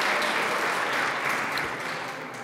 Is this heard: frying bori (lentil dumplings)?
no